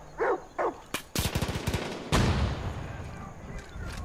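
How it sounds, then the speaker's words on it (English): Far Cry 5 combat: mortar blasts and rapid gunfire crack and rumble in quick bursts, loud and close, with brief shouted voices at the start. "Oh shit, mortar!"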